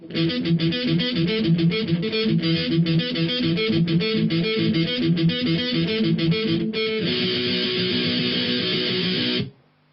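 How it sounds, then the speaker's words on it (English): Electric guitar with distortion picks palm-muted single notes in a pre-verse part, a steady chugging pattern that shifts to a brighter sustained section near the end before stopping abruptly; loud, close and alone. "Going to be some single notes and a lot of palm muting."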